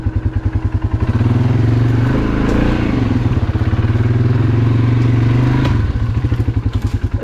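A big ATV engine revs loud and close on a steep, tree-choked extreme trail, its deep pulsing idle swelling into sustained throttle bursts with clattering thumps of the machine over obstacles, running continuously throughout.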